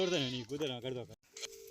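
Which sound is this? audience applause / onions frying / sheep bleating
sheep bleating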